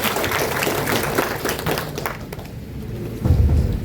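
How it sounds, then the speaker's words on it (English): An audience at a regional induction ceremony in Namibia's Hardap region breaks into brisk clapping. The applause thins out after a couple of seconds, and a few dull thumps follow. "Can we give them a round of applause?"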